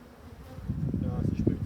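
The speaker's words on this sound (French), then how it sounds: "Vous voyez déjà les abeilles commencent à passer au travers" Black honey bees buzzing around an opened hive as a super is set in place, a low droning hum that swells and grows louder over a short moment, close by.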